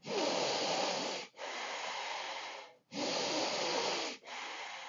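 Pranayama breathing from a yoga practice, heard as long, forceful, hissing breaths through the nose. There are four sustained blasts with brief gaps between them, close and loud, with no talking.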